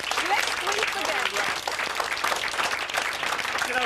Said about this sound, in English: I think a round of applause for the lad.